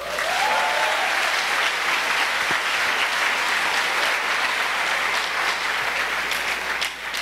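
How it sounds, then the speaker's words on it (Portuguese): A church conference congregation applauds in a dense, continuous burst of clapping that fills the whole stretch at steady loudness, with a brief vocal sweep early on and no clear talk. "Se você concorda, aplauda Jesus."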